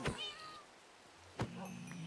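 Cats in the Minecraft video game meow twice, one short mew near the start and another about a second later, fairly close and clear over a quiet background.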